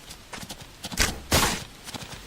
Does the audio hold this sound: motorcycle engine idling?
no